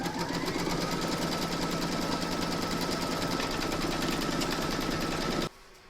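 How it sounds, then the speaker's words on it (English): Embroidery machine stitching batting onto a hooped outline, a steady, loud, rapid mechanical chatter running continuously for over five seconds before stopping abruptly, leaving quiet room tone. "Pop your hoop into your machine and stitch round number 2."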